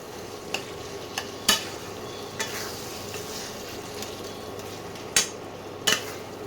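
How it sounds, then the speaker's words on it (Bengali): Chopped tomatoes being stir-fried in masala for a mutton dish, a soft, low frying hiss under a handful of sharp spoon scrapes and clinks against the pan, spaced irregularly across the clip. "এই সময় কটা দিয়ে দেবো টমেটো কুচি কটা দিয়ে দিলাম"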